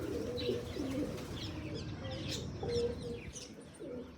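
An old pigeon coos in soft, repeated low calls at a fairly close distance, with faint chirps from other birds in the background and a light flutter of wings.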